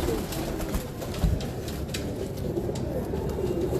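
Pigeons kept by a pigeon fancier coo in low, repeated throaty calls, close and continuous over a steady background hum, with no talking.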